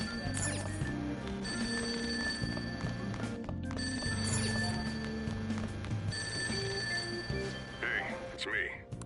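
A telephone rings in Persona 5 Royal with a repeated high trilling bell over gentle game music, with brief pauses between rings.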